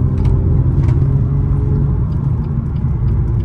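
A 2019 BMW M2 Competition with 411 hp drives hard through a bend, its engine a steady low rumble and road roar heard from inside the cabin, sustained and even with no voices.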